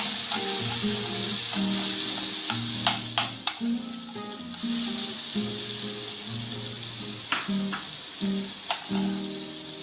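Spiced beaten curd with red chili powder being stirred in a sizzling pan for Delhi-style butter chicken, a steady loud crackle with spatula scrapes and clinks, over a low melodic background tune, no voices.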